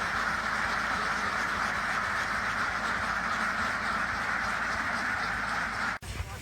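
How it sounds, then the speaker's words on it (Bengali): Khaki Campbell ducks crowd aboard a trawler on a river, a dense, continuous chorus of quacking from the whole flock, loud and close, that breaks off abruptly just before the end. "তারপর সব হাঁস দৌড়িয়ে ট্রলারে ওঠে কোনো ঝামেলা ছাড়াই।"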